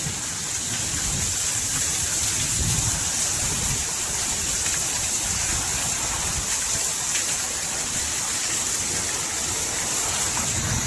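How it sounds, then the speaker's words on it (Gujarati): Heavy rain pours down on a village, making a dense, steady roar that stays constant and close throughout, with no voices. "જોરદાર વરસાદ જેમ તેમ ફૂલ વરસાદ ફૂલ જો"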